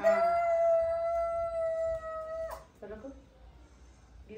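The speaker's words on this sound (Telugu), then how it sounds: "కుక్క" A dog lets out one long, sustained tonal howl at close range that breaks off abruptly after a couple of seconds, followed by brief whimpering yips and quiet.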